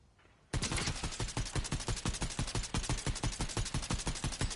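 Rapid automatic gunfire in the Fortnite video game: a sustained burst of loud, evenly spaced shots begins after a brief quiet start and hammers on steadily to the end, with no talk.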